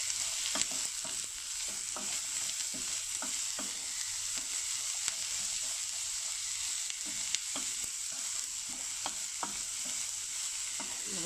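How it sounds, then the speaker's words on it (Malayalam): Carrot thoran being stirred in a pan: a continuous soft sizzle with repeated quick scrapes and taps of a spoon against the pan, close and even, with no talking. "നമുക്ക് നന്നായി ഒന്ന് ഇളക്കി യോജിപ്പിച്ച്"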